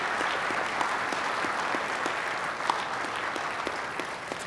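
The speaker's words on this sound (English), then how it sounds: "Can we give them all a round of applause again?" An audience applauds at the close of a legal panel on landmark Supreme Court decisions, a steady, dense wash of clapping that holds evenly throughout with no voices.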